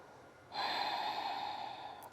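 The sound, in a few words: breathing during a yoga stretch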